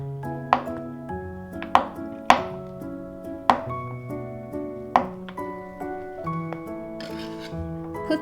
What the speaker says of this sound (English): Cut ½ cup of unsalted butter into small cubes.